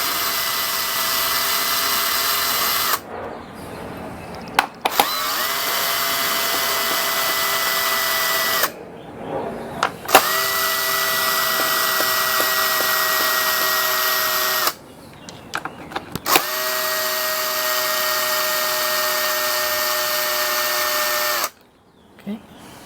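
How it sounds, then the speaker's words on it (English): A cordless power drill backs out the bolts on a Kawasaki KLX140L dirt bike's airbox cover, several long steady whirring bursts with rising pitch separated by brief pauses and small clicks, close and loud. "I'm gonna go get my handy dandy drill here and take them all out"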